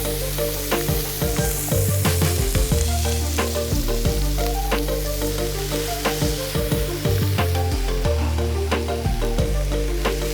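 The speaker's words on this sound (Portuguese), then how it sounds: "E vou colocar aqui nessa outra panela toda a quantidade do pimentão." Chopped bell pepper frying in a pan with a homemade sauté base: steady, close sizzling throughout, punctuated by frequent scraping and clinking as a utensil stirs, with no voices.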